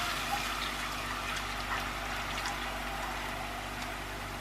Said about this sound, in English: I'm going to put in the beer.